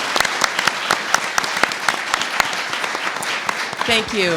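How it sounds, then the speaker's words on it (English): Sustained applause from a symposium audience after a standing ovation, dense and steady with sharp individual claps standing out, then a voice begins speaking near the end. "could we give them one more round of applause?"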